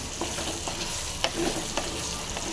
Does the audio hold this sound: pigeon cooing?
no